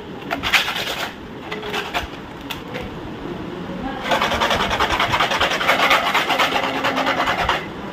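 Hand rasping smooths the inside of a skating shoe being modified, a close, steady scraping rub that grows louder and more continuous in the second half.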